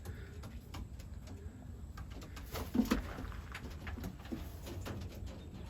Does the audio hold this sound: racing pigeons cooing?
yes